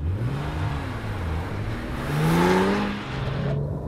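A Porsche GT2 sports car accelerates on the motorway, its engine note climbing through rising revs to a loud peak and then dropping back as it shifts, heard from inside with no talking.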